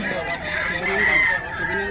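A rooster crows once, loud and close, with a long drawn-out call amid other chicken sounds.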